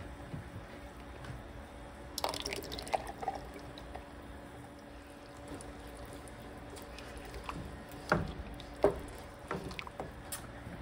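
Canned kidney beans are poured into a pot for chorizo and rice chili, giving a soft wet slop and splatter with a few brief clunks of the can, quiet and close.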